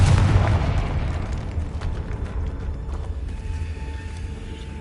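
A Confringo fire spell blasts in Hogwarts Legacy, a loud booming burst at the start that rolls into a rumbling, crackling decay, with faint mechanical clicks trailing off.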